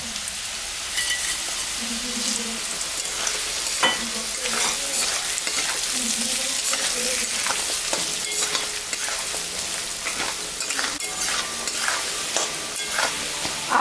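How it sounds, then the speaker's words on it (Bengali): Gobindobhog rice fries in hot oil with potato, dry chilli, cumin and bay leaf in a pan, a steady close sizzle with continual stirring scrapes throughout. "ভাজা হয়ে গেছে এখন আমি গোবিন্দভোগ চালটা দিয়ে দিব"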